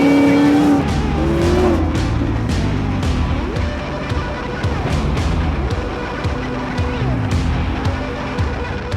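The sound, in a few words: supercharged Coyote 5.0 widebody 1956 Ford F100 driving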